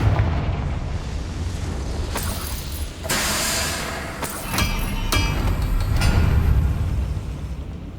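A Confringo blasting spell in Hogwarts Legacy gameplay sets off a string of heavy booming explosions and crackling bursts over a dense, rumbling roar, loud and continuous for several seconds.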